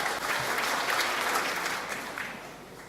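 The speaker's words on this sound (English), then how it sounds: "Kind of killed that round of applause there, didn't I?" Round of applause from the audience at a university graduation ceremony in Newcastle, a dense crowd clapping that holds steady and then begins to thin and fade toward the end.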